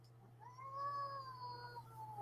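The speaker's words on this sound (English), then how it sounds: "As you can hear, my kitty is not happy to be on the screen today." An unhappy, grumpy black cat lets out one long, drawn-out complaining meow that rises and then slowly falls, close and clear over a low steady hum.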